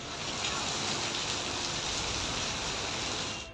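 Light rain falls across Karachi as a faint, steady hiss of drops on surfaces. The sound stays continuous and even throughout, without any voices.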